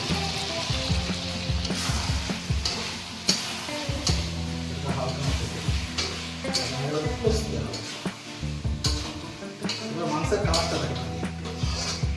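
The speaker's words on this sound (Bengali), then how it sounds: "এই যে জল দিয়ে দিয়েছি বুঝে দেখছো মোটামুটি জল দিয়ে দিয়েছি" Water is poured into a pan of cooking meat in a home kitchen, bringing sizzling and bubbling liquid with scraping stirs. People talk over the cooking noise throughout.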